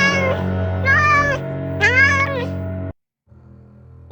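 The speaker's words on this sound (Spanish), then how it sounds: "Un gato enorme, completamente negro, salvo por una mancha blanca en el pecho." A large black cat with a white patch on its chest meows loudly several times in drawn-out, wavering cries, close by, with a low steady hum beneath; the sound cuts off abruptly near the end.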